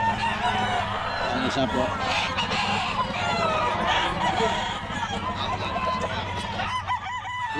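Chickens at a pet market in Bocaue cluck and squawk in a steady busy chorus, fairly near, while people talk and haggle over them.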